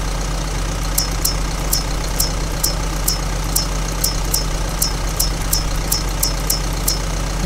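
Sonalika 60 DI tractor engine in Farming Simulator 22 hauling a loaded sugarcane trolley, a loud, steady low rumble with a regular high ticking running through it and no talking.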